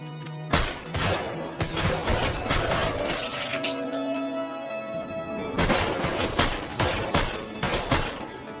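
Rapid bursts of gunfire in a Japanese action film shootout from High and Low, as a lone fighter charges and fires on the Kamijono forces: dense, loud volleys of shots and crashing impacts that pause briefly before erupting again.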